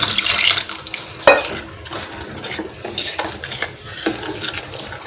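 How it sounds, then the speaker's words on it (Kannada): Water poured into a potato and pea masala in a pan, with splashing and wet clinking pot and utensil sounds, irregular bursts near and fairly loud; no talking. "ಸ್ವಲ್ಪ ನೀರನ್ನು ಆ್ಯಡ್ ಮಾಡಬೇಕು"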